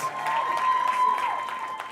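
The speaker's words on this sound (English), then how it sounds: "Can we give Professor Shaukat Abdulrazak another round of applause?" Applause from the audience at a national science and technology exhibition opening ceremony in Kenya, a fairly faint, steady round of clapping from a crowd in a large hall lasting a couple of seconds.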